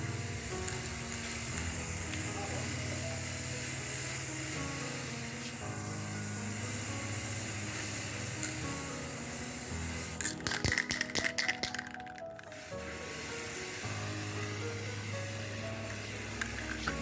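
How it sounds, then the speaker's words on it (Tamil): Aerosol spray paint hissing from a can in short bursts with a rattling, uneven texture near the end, loud and close over a steady background hum. "பெயிண்ட்டு வந்து அந்த ஸ்ப்ரே எல்லாம் பண்ணதுக்கப்புறம்"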